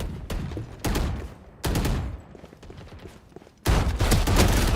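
Shotgun fire in the FragPunk game booms close and loud in several separate blasts, each followed by a short decaying tail.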